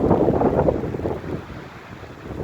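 Strong wind gusts across the microphone in cold, rainy, very windy outdoor weather, a loud buffeting roar that eases slightly partway through.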